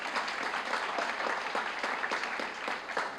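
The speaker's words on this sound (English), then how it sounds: "That deserves a round of applause" Sustained audience applause fills a scholarship awards banquet hall, a dense steady patter of many hands clapping at moderate loudness for the full duration.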